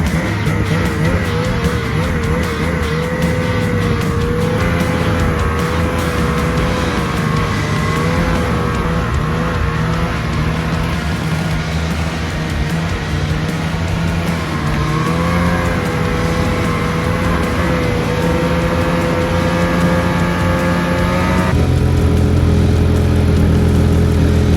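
A tracked vehicle driving over shallow snow and frozen dirt, its engine loud and close, droning steadily with shifting pitch and a rise in rumble near the end.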